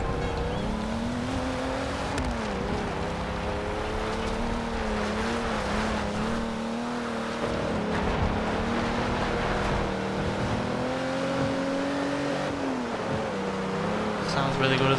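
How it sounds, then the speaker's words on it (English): A naturally aspirated V12 car engine in the racing game Forza Horizon 2 hums steadily, its pitch rising and falling gently as it holds speed, loud and continuous throughout. "Sounds really good as well with that V12, naturally aspirated"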